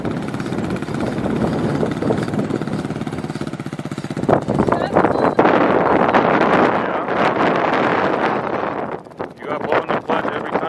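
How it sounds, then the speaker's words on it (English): Gusty wind roars on the microphone outdoors. It is loud and uneven, surging partway through over what sounds like an idling engine. "It's pretty windy out today."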